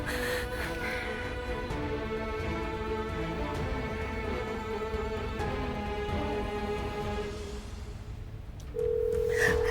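A telephone rings on a call in a Turkish television drama scene, heard as a steady electronic tone, which gives way to a sharper sustained beep near the end.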